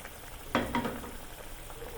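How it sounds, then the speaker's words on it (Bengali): Fried hilsa fish pieces slipped one by one into bubbling spiced oil, heard as two soft splashy bursts close together over a quiet, continuous low sizzle. "এরপরে আমরা এক এক করে ভেজে রাখা ইলিশ মাছগুলি দিয়ে দেব সাবধানে।"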